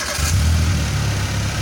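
A car's EFI engine, started for a scan-tool actuation test of the ISC step motor, runs at a steady low idle, loud and close, with an even rumble and no talk.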